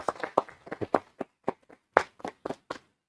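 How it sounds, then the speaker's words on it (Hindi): A small audience at a talk show about the old pension scheme claps in sparse, distinct handclaps, about a dozen sharp slaps in an uneven rhythm with brief gaps between them. "इनके लिए जोरदार तालियां हो।"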